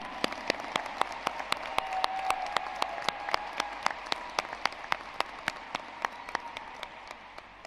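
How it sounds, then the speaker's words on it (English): Commencement crowd applauding the graduates at an undergraduate ceremony, a sustained wash of clapping with sharp, regular claps standing out close by, rather quiet overall. "I would like to have everyone just offer them a round of applause for their tenacity, perseverance, and hard work."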